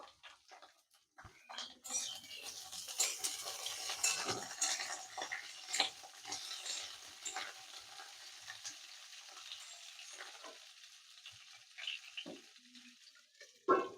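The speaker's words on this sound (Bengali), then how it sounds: "আবারও চাপা দিয়ে কিছুক্ষণ নেড়ে চেড়ে একটু ভেজে নেব।" Mixed vegetables with red amaranth stems and green banana fry in a pan for a mustard-paste chorchori, giving a soft, steady sizzle under repeated scraping stirs and light utensil clinks, fairly quiet and with no talking.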